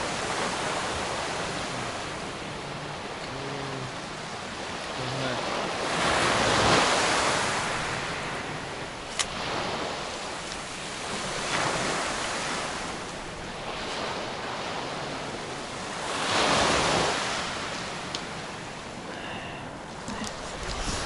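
Sea waves break and wash onto the beach at Gelendzhik in steady, rolling surges with gusts of wind, several swells rising and falling over a continuous roar, no voices.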